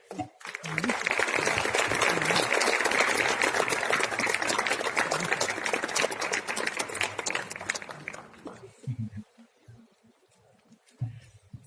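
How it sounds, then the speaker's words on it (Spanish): An audience gives loud, sustained applause to welcome a speaker, Yulisa Mosquera, filling about eight seconds before fading out, after which a voice speaks. "los invito a que recibamos con un muy fuerte aplauso a Yulisa Mosquera"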